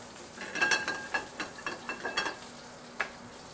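Oil hissing in a hot pan before mushrooms go in for pan-seared filet mignon, with crisp sputtering bursts and clicking pops in an uneven rhythm, close and fairly loud.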